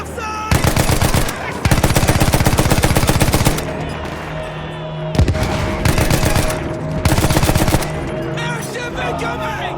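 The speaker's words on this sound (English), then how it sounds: "Open fire! Keep shooting!" Battlefield 1 battle with bursts of machine-gun and rifle fire in long rapid rattling volleys, loud and close, separated by brief lulls with a lingering hum.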